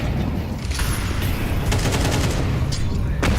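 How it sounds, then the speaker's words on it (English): Gunfire in Counter-Strike 2 during a professional match on the Inferno map, with dense bursts of shots and sharp cracks mixed into steady game noise over about three seconds. "Oh, a headshot over the top of the half wall."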